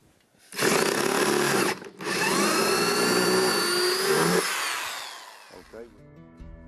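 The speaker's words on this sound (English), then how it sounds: "This footboard, I need to drill a hole for it." A loud power drill whirs steadily boring a hole in a wooden wagon footboard, stopping briefly and starting again for a long run before winding down, with a faint voice at the end.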